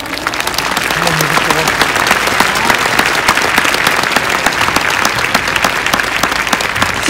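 Dense, loud applause from a stadium crowd of Tokyo Yakult Swallows fans at the team's fan appreciation day, steady and sustained throughout with no pause.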